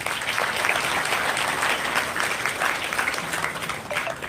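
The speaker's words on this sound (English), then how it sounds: "A big round of applause to the NCC band and our talented students." A crowd applauds at an Independence Day celebration for a band and students, producing a full, steady wash of clapping from many hands that stays loud and even throughout.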